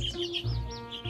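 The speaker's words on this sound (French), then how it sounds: "Le pinson." Galapagos finch chirps from the Galapagos Islands, a quick run of bright, close tweets with short gaps between them.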